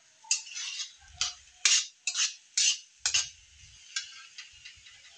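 A metal spatula stirs a frying egg scramble in a pan with a run of about nine short, sharp scrapes and clinks in an uneven rhythm. It is close and fairly clear, with no talking.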